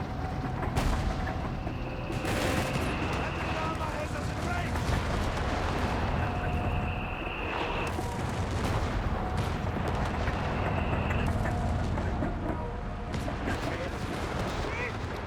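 Battlefield fire in Company of Heroes 3 from 75mm M3 artillery barrages and mortars: steady distant booms and shell impacts with scattered gunshots under continuous talk and intermittent whistling tones.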